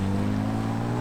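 A 2025 Ram RHO pickup's engine drones loud and close while accelerating, a steady deep rumbling roar with strong low tones and no talk.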